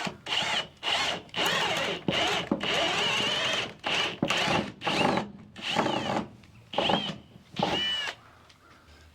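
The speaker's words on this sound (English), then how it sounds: "So let's get these holes drilled." A cordless-style power drill boring holes into the wooden framing of a sawmill shed, running in repeated bursts of whining motor and bit chatter with short pauses between, close to the microphone.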